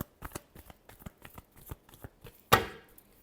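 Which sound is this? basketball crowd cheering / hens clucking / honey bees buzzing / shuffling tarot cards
shuffling tarot cards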